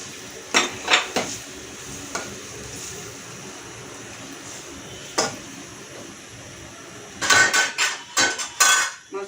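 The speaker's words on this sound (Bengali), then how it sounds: "হালকা কষাবো মাছগুলিকে" Utensils clatter and scrape against a pan as hilsa fish is lightly sautéed and stirred with a little water for a Bengali fish curry, with sharp metallic knocks in bursts at the start and end over a quiet low hiss.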